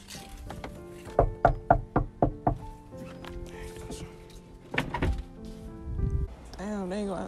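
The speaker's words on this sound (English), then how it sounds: "so I'm about to knock on this person's door." Seven firm knocks on a house door in a quick, evenly spaced series, close and loud, followed by quiet background and a brief voice near the end.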